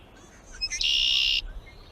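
One harsh, buzzy red-winged blackbird call rising into a loud, sustained trill lasting about half a second, close and alone against faint background noise.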